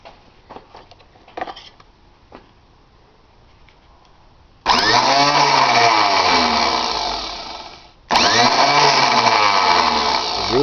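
Bench-mounted Tecumseh OH180 starter motor from a Bolens H18XL, spinning in two loud whirring bursts with a sharp onset, the first winding down before the second; faint clicks and handling sounds come before.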